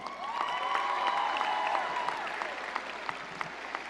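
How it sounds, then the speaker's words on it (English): Audience at a high school graduation ceremony applauding in a large hall, a sustained spread of clapping with some cheering and whistles, moderately distant and gradually thinning toward the end. "Let's give them a Jaguar applause."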